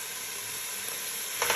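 Simmering harira in a pot gives a steady soft sizzle and hiss that runs the whole time, with a faint rustle near the end as spices go in.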